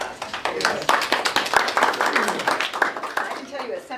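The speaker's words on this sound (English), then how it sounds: "let's give her a round of applause" A small group at a city council annual retreat clapping, a crisp, near patter of hands with voices mixed in beneath it.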